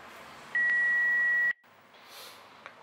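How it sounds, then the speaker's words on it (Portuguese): A single steady electronic voicemail beep, about one second long, followed by a short silence and faint background hiss. "Ouça após o bip."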